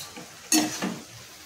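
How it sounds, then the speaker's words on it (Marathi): Leafy vegetable stirred in a kadhai, a sudden close scrape and clatter of the spoon followed by a soft sizzle of frying that fades quickly, with no talking. "भाजी पुन्हा आपल्याला अलटी पलटी करून मिक्स करून घ्यायची"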